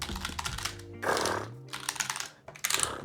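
Typing on a Roccat optical gaming keyboard, with bursts of dense, rapid key clicks separated by short pauses, fairly close and clear, over a faint steady hum.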